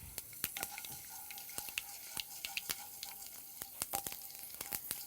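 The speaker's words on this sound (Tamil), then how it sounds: "வெந்தயம் நல்லா பொரிஞ்சு வந்ததுக்கப்புறம் வெங்காயத்தை ஆட் பண்ணிடுங்க." Fenugreek and mustard seeds fry in oil for vatha kuzhambu, a faint low sizzle broken by frequent sharp little pops and crackles spread irregularly across the clip.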